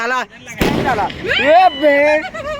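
A firecracker bomb bursts outdoors with a single loud, sharp blast, followed by voices talking excitedly close by.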